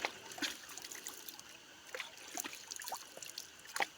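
Cold stream water trickles and splashes over rocks at Nelliyampathy in Palakkad, a faint, close babble with small irregular drips and gurgles, no voices.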